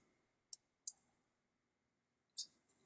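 Mouse button clicks during photo editing, a handful of sharp, isolated taps spaced irregularly with quiet gaps between, close and fairly faint.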